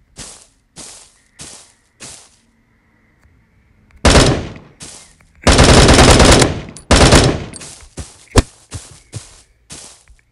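Rapid machine gun fire in a video game: short sharp bursts at first, then long sustained loud volleys and a few single cracks, close and dominant with no talking.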